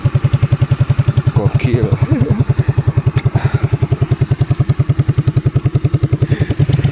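Motorcycle engine started and left idling to warm up at a hilltop motocamping spot, a loud steady rapid thumping pulse close by, with brief speech over it.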